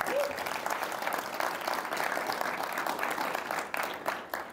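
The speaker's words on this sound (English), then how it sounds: "Everybody give Jason a round of applause." Live studio audience on a university campus gives a sustained round of applause, steady and full throughout, easing slightly near the end.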